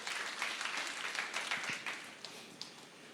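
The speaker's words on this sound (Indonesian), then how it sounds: "Berikan tepuk tangan bagi Yesus." A church congregation claps for Jesus during a sermon, a brief burst of many hands applauding in a reverberant room, fairly faint, thinning out into a few last scattered claps.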